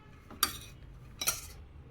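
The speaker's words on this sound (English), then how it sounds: "we'll mix it on medium flame" A spoon scrapes and clinks twice in a pan while grated coconut and cooked green gram are stirred together over a medium flame, two distinct metallic strikes against quiet background.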